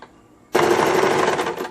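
A sewing machine stitching a pocket onto a blouse, silent for half a second, then starting abruptly into a loud, fast, steady mechanical rattle that runs to the end.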